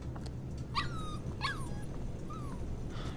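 A puppy in the video game Life Is Strange 2 gives several short, high whimpering yips close by, three distinct cries spaced across the moment over a low steady background.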